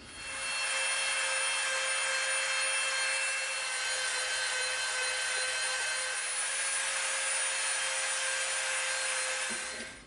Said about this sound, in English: we're gonna get our Dremel out and we're going to sort of round the outer edge off just a little bit